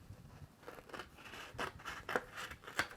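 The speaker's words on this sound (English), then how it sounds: "cut this with scissors carefully" Scissors snip through paper while cutting a decorative figure out for a gift bag, a series of soft crunching cuts that come irregularly and grow a little louder toward the end, with no voices.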